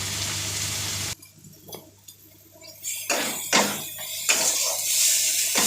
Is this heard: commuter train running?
no